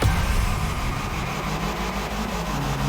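A rally-style car engine at a motorfest rumbles steadily throughout, a loud, continuous low drone with a rough, idling texture and no pauses.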